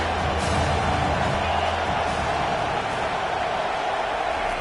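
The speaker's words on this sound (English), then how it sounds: "This crowd knows when to bring it." A stadium crowd in College Football 25 roars steadily throughout, a dense wash of cheering with no break.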